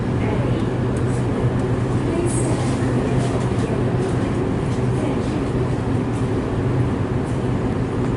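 Standard Gauge VLocity diesel train pulling away on its first revenue service, a steady loud low rumble and engine drone from on board, constant throughout with a faint voice in the background.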